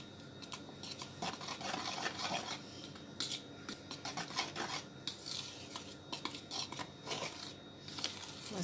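A spoon scrapes and taps against a bowl, mixing salt, garlic powder and paprika for a popcorn chicken coating, with quick irregular clinks and rubbing strokes heard up close.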